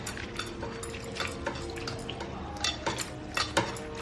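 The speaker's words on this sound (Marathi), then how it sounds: "स्वच्छ बोंबील धुवून घ्यायचं चांगले खसखशीत." Bombay duck fish being washed by hand under running tap water, with steady splashing and dripping plus a few clinks of a metal vessel, close and fairly quiet, no talk.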